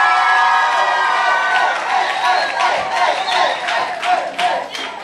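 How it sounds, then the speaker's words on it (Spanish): A family reunion crowd shouts and cheers loudly and continuously in a dense wall of voices, with whoops rising throughout and no single voice standing out. "yo necesito que ustedes me ayuden a hacer una bulla bien fuerte"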